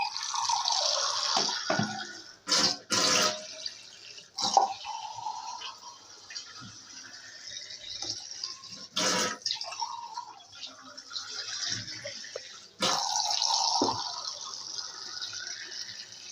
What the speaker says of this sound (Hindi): और अब ये ऐड करने के बाद हम इसके अंदर तकरीबन आधा लीटर पानी डालेंगे।